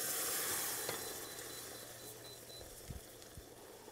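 Tomatoes cooking in a pot of macaroni give off a steady, soft sizzle and bubbling hiss, close by, with a few faint low knocks from stirring near the end and no talking.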